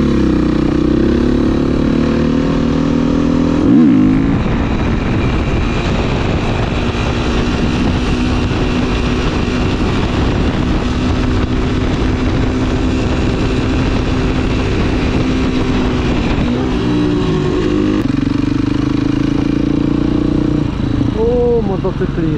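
Romet Ogar 200 motorcycle with a swapped 140 engine running close by, a loud continuous buzzing drone with rising and falling revs through the clip, people talking over it.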